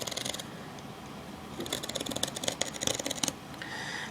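Scissors snip through duct tape while making a wallet, a cluster of quick, crisp cutting crunches in the middle of the moment, close and fairly faint.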